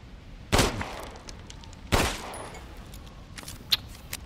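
Two sharp gunshots in Resident Evil Village ring out about a second and a half apart, each with a short echoing tail, followed by faint clicks against quiet background noise.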